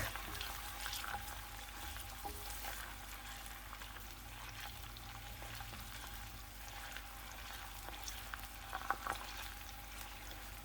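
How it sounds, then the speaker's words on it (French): Onion and garlic fry quietly in a pan as the base of a quick Tunisian sauce, giving a faint, even bubbling sizzle with soft crackles throughout and a few small pops. "Là, j'ai mis l'oignon et l'ail à frire."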